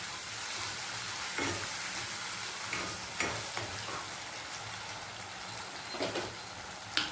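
Chilli chicken ingredients sautéing in a pan, a dense crackling sizzle with scattered spatula taps and scrapes throughout.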